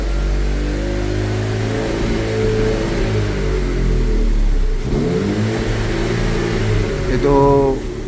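A gasoline car engine revs to blow out carbon deposits during a cleaning treatment, giving a loud continuous drone whose pitch sweeps up and down as the throttle is pressed and released.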